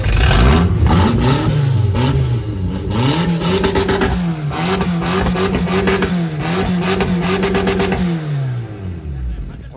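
Off-road race vehicle at King of the Hammers, after a stall blamed on a dirty filter, fires up and revs repeatedly, loud and close, the engine rising and falling before settling and fading.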